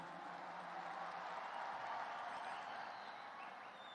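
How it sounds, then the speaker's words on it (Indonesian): Distant, steady applause from a large audience at a NasDem party rally in Indonesia, soft and sustained throughout. "Kita beri tepuk tangan untuk beliau."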